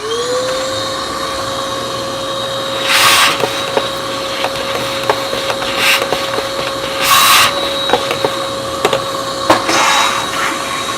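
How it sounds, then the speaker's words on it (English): A vacuum cleaner runs with a steady high whine while its nozzle scrapes and rattles inside a Breville Barista Pro coffee grinder, with brief louder sucking bursts. "I like to just vacuum it out,"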